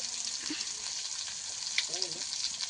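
Raw mango pickle sizzles softly in hot oil over low heat as it is stirred, a faint continuous frying hiss with a brief scrape or two and a short tonal sound near the end.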